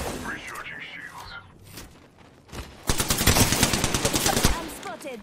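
Rapid automatic gunfire in the shooter game Apex Legends, a loud, close burst of repeated shots over a couple of seconds, preceded by quieter game sounds and a voice talking.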